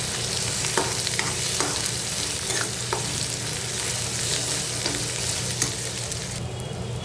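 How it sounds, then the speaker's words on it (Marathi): Ground masala paste fries in hot oil with bay leaf for a village-style egg curry, a steady close sizzle broken by scraping stirs at regular intervals, with no voices. "तो मसाला व्यवस्थित आपल्याला तेलामध्ये परतून घ्यायचा आहे"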